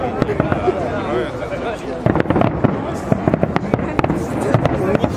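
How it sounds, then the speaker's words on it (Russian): Fireworks salute over the water at the Scarlet Sails celebration in Saint Petersburg: rapid crackling bursts and pops come in clusters beneath a noisy crowd, with people talking throughout. "Корабль, господа, салют."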